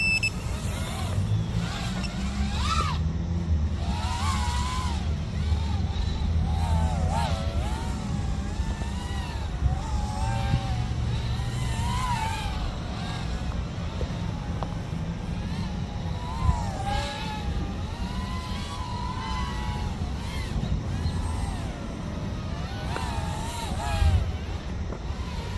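A tiny FPV quadcopter on a Baby Turtle frame flies by line of sight, its motors whining in wavering, rising and falling pitches over steady wind rumble for the whole stretch.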